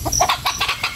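Farmyard chickens cluck in quick, close, short bursts, several calls overlapping over a low rumbling background on a rainy farm.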